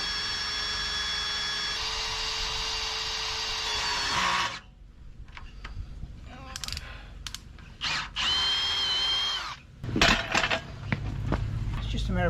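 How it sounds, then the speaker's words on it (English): A power drill bores an 8mm hole for a bolt through camper steps. A steady, high whine runs for about four seconds, followed by several shorter, choppy bursts of drilling and handling noise. "It's an 8mm hole that you just drill straight through where the bolt goes."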